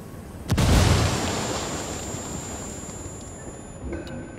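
A frag grenade in Ghost Recon Wildlands detonates with one heavy close blast and a long rumbling decay, followed by faint distant rattling.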